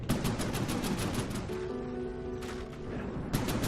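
Cannons fire in rapid bursts in the naval combat game From the Depths, a dense rattling barrage broken by a brief lull with a sustained mechanical tone before the rapid firing resumes, loud and continuous with no talk.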